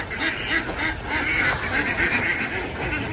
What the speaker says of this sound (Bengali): এই সেই হাঁস